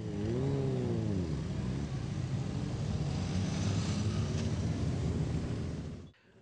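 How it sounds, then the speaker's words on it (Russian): A column of motorcycles rides through city streets, engines rumbling in a continuous loud drone with a rising and falling rev early on, before cutting off abruptly at the end. "проехали по городским улицам, будоражая, привлекая внимание прохожих рокочущим звуком двигателей"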